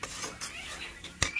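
Beef roast masala being stirred in a cooking pot outdoors, a quiet scraping and soft clinking of the spoon against the pot, ending in one sharper metallic clank.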